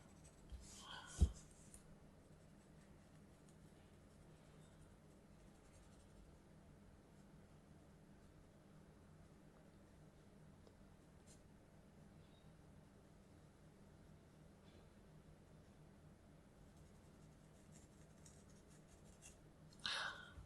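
Crayola Supertips marker pens drawn across paper, giving faint, soft scratchy strokes over a quiet room hum, with a couple of brief bumps near the start and end.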